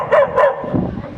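A dog gives two quick, close barks in a row, then a lower grumbling yelp, all loud and clear.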